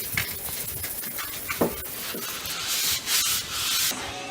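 Close, rhythmic scratchy rasping of sandpaper rubbed back and forth over a wooden Kentucky rifle stock with brass fittings, steady strokes with no talking.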